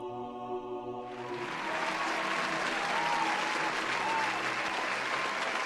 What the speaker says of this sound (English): Let's have some applause, Mike.